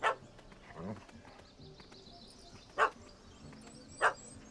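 A puppy in The Witcher 3 gives a few short, sharp yips spaced apart over low background sound, with a voice talking in between.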